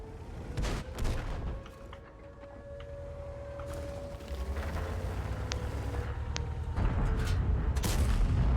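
Repeated tank cannon fire in World of Tanks, sharp booming reports recurring under a steady rumble of engine and battle noise, some shots near and loud, others duller.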